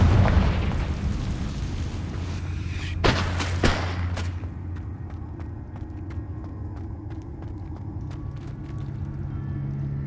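A Confringo blasting spell explosion in a Harry Potter video game, a loud deep boom at the outset followed by a couple of sharp bursts and crackling debris fading into a quiet low rumble.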